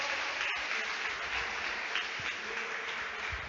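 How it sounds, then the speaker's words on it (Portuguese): Worshippers at an evangelical midweek service clapping together, a continuous dense wash of applause with a hissy, buzzing quality, holding steady at moderate volume from start to finish. "Vamos aplaudir nosso Deus bem forte."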